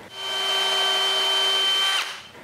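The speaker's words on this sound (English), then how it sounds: "it's way easier to drill through wood than hardened steel" Power drill boring through wood for a staircase gate, a steady, close whine with a constant motor pitch for about two seconds before it spins down and stops.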